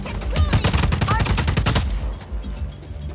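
Sustained rapid gunfire bursts out in Just Cause 4, a loud, dense stream of shots over the first two seconds before it tapers off. A voice is briefly audible.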